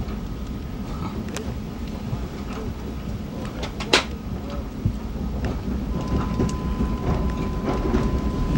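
A train shunting past on a SEPTA line in 2007, a steady close rumble of rolling wagons with scattered metallic clanks and thumps throughout.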